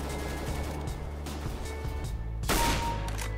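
Scout sniper rifle gunfire in CS:GO, a sharp loud shot standing out near the end over a steady background of in-game ambience and rumble.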